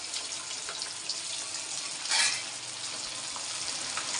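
Pieces of fish fry in hot oil with a steady close sizzle and crackle, swelling briefly in a louder hiss midway, with no voices.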